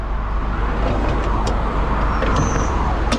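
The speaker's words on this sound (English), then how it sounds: "Just got to be aware of traffic now on this side." Road traffic rushes past at close range beside a live lane, a loud continuous roar of passing cars and heavier vehicles with no break.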